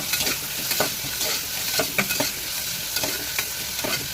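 Onions, green chili and curry leaves frying in a pan for a chickpea curry, giving a continuous bright sizzle with repeated quick scraping strokes of a spoon, close and fairly loud.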